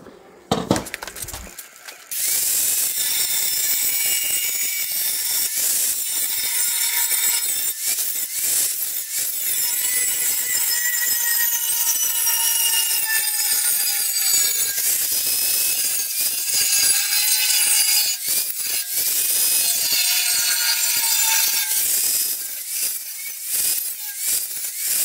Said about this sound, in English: then I've got to grind out the slot there